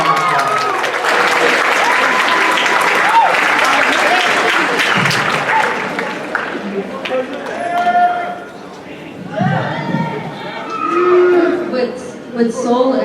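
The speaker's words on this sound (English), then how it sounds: "Please give her a big round of applause." Audience applause at a school Cesar Chavez assembly, a broad wash of clapping with cheering voices, loud at first and tapering off after about six seconds into scattered calls and talk.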